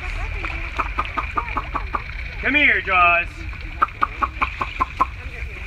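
Chickens clucking near a pond at a live alligator feeding, repeated short clucks and squawks in a steady pattern, with a louder harmonic call in the middle, while people talk nearby.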